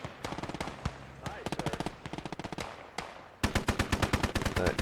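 Machine gun fire rattles out in the Gates of Hell Ostfront battle game as rapid, loud, repeated bursts of sharp shots separated by short pauses, ending in a denser volley.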